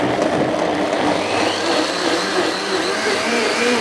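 A soup maker whirs loudly as it blends sunflower seed cheddar ingredients, minus the agar agar, while heating, a steady close motor drone with a faint voice underneath.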